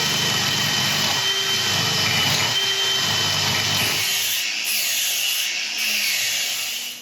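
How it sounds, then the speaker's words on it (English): A Forstner bit flattening an area of an uncut wood burl, a loud continuous drilling whine and grind running steadily for the whole stretch, easing slightly near the end. "So I need to flatten this area around here, and I'll do that with a Forstner bit."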